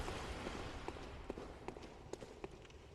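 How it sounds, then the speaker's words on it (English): Footsteps in Bloodborne, a handful of faint, evenly spaced steps tapping over a dense, hissing ambient bed. "Still hear a lot of footsteps"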